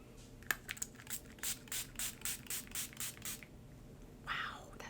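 Profusion Cosmetics Halloween setting spray misted from its pump bottle, about ten quick rhythmic hissing sprays in a row, close and fairly soft, followed by a short pause and one longer final spritz.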